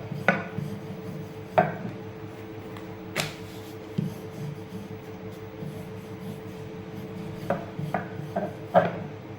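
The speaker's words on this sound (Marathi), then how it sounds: "बघा अशा प्रकारे पोळी लाटून घेतलेली आहे" A rolling pin works a flatbread made for sweet jaggery chanakya, giving soft, close rubbing and rolling strokes with light knocks against the board at irregular intervals over a faint steady hum.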